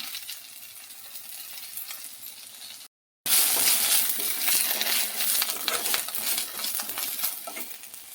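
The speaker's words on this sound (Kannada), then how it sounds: "ಚೆನ್ನಾಗಿ ಫ್ರೈ ಮಾಡಬೇಕು" Drumstick leaves and other greens fry in a pan with a steady close sizzle and scattered clinks of a spoon. There is a brief silent break partway through, then the sizzle comes back louder and keeps going to the end.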